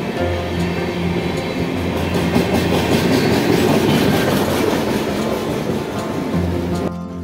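The Sri Ganganagar Superfast Express, hauled by a WDP 4D diesel locomotive from Moula Ali shed, rumbles past close by with loud rhythmic wheel clatter and a continuous roar that cuts off sharply at the end.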